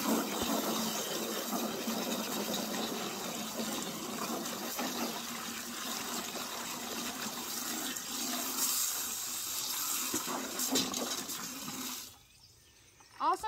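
Steady rushing spray of water rinses out a reusable fly trap container for several seconds, then cuts off near the end, leaving brief quiet and a small clatter.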